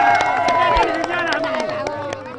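A crowd claps and applauds at a festive Eid al-Adha gathering, with steady rapid clapping mixed with cheering voices and warbling cries throughout.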